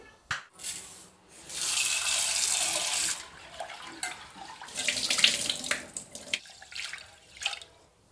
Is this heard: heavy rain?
no